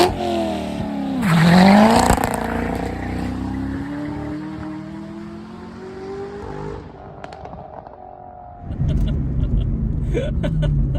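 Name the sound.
C6 Corvette ZR1 full-throttle launch, clutch dropped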